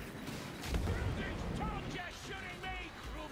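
Bomb explosions in the video game Vermintide 2, rendered as several loud, dense blasts and crackling bursts that run almost without a break, overlapping with excited talk from players.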